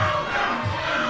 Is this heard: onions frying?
no